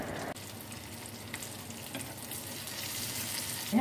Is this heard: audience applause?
no